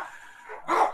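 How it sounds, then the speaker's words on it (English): Dogs bark in a single short, fairly close burst near the end of a moment of faint room murmur. "Dogs, right on cue."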